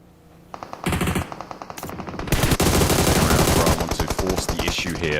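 PUBG Mobile gunfire in a competitive esports final cracks out as rapid automatic bursts, starting with sparse shots and building into long, loud sustained volleys with a few short gaps.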